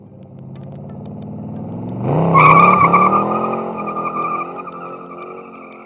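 A 1967 Chevrolet Corvette 427 V8 revs up from a low rumble into a loud, roaring burst, then holds a strong, rough idle with high tonal whine, heard up close.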